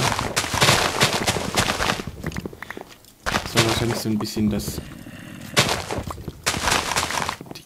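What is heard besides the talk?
cannons firing in video game Minecraft Hexxit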